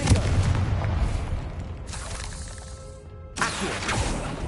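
A Confringo fire spell bursts in Hogwarts Legacy with a loud booming blast and crackling debris, fading into a quieter rumble before a second burst of noise returns near the end.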